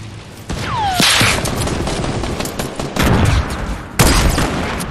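Rapid bursts of automatic gunfire in a PS4 shooter, loud and close, with a fast whistling projectile sweep near the start and sharp heavy volleys around three and four seconds.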